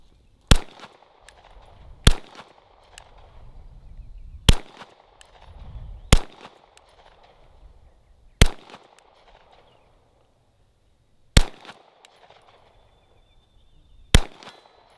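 A Canik TP9 Elite Combat Executive pistol fires seven loud, sharp shots at uneven intervals of roughly two seconds outdoors, each crack followed by a brief echo and low rumble, with no talk.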